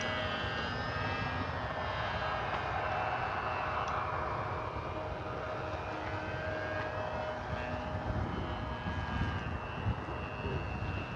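The engine of a small E-flite Sportix electric RC model airplane whines steadily in flight on a very windy day, with a constant buzzing hum and heavy wind noise rushing underneath.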